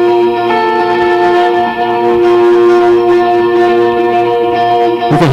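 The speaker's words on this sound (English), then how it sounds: "if you turn the pick upside down, it gives that percussion scrapey sound." An electric guitar played with an upside-down pick gives a dense, ringing wash of sustained harmonics with faint scrapey chiming texture, loud and without voices.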